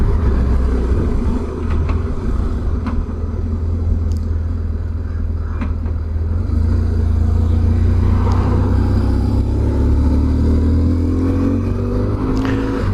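A car pulls away after being put into gear, its engine rumbling loud and close and rising steadily in pitch as it accelerates, with no talking.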